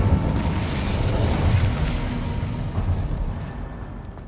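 Incendio fire spell cast in Hogwarts Legacy, a whooshing burst of flame with crackling, rumbling energy that stays fairly loud and steady before thinning out toward the end.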